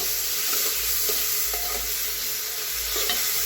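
Chopped tomatoes, ginger-garlic-coriander paste and salt are stirred and fried in a pan for masale bhat, a continuous sizzle with scraping spoon strokes against the metal at an irregular pace, close and without speech.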